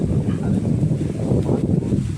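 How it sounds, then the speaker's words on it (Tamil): Strong wind blows through a coconut grove at Kilakarai, a loud, steady gusty roar buffeting close against the microphone, with no clear talk. "சரியான காற்று காற்று அதிகமான காற்றாக இருக்குது"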